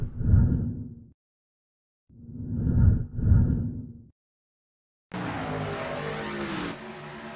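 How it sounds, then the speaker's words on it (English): Race car doing burnouts in the iRacing sim at Homestead Miami Speedway, heard as three swelling engine roars with short gaps between them, followed by a sustained harsher burst of engine and tyre noise. "doing those burnouts"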